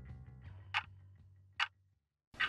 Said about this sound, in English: Okay, clock ticking ASMR